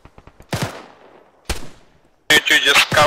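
Bursts of gunfire from the east in a military game: a quick string of faint shots, then two sharp louder reports with echoing tails, followed by a loud close burst overlapping a voice.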